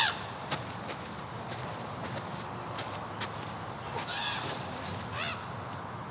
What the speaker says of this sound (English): These crows for the last few days have been fighting around here.